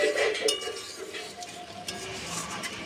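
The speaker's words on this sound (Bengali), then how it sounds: "ধনে পাতাগুলো দিয়ে আমি পুরো নাড়াচাড়া করে নিচ্ছি" A spoon stirs fish curry with fresh coriander leaves in a pan, giving sharp metallic clinks and scraping against the pan, loudest at the start and then lighter.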